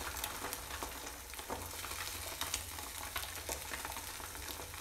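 Chopped onion and tomato fry in a pan for an omelette, a steady close crackling sizzle with faint stirring scrapes running throughout, no voices.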